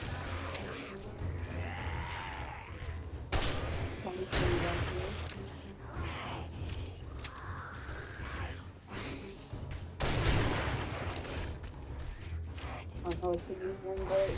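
Gunfire in the survival game 7 Days to Die, with sharp shots and bursts scattered through a noisy stretch, some loud and close, mixed with people talking and breathing sounds.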